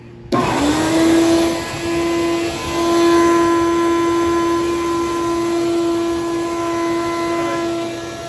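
Shop-Vac wet vacuum fitted with a homemade hose adaptor sucking up water, starting abruptly with a loud steady motor whine and a strong tonal hum that holds for several seconds, with slight surges in the airflow.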